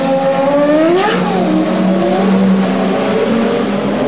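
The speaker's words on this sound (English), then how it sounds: "The two Rahal cars running together." CART race cars of the Rahal team running together at the Surfers Paradise street circuit in 2002, engines screaming loudly as they rise and fall through the gears, one car sweeping past close by.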